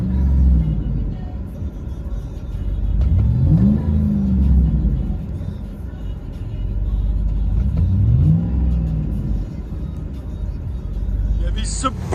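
A 2007 Chevy Suburban LTZ with a 5.3L V8 and Magnaflow Magnapack exhaust, heard from inside the cabin: a deep steady rumble with two rising revs, under ongoing talk.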